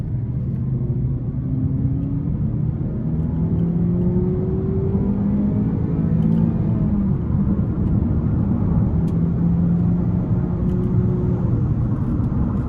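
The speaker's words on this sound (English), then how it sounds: "I'm gonna put it in the manual mode, and then we're gonna give it some throttle here." A 2015 Chevy Impala four-cylinder engine pulls hard under throttle in manual mode, a steady close rumble with rising, shifting engine tones that climb and fall across gear changes, no voices.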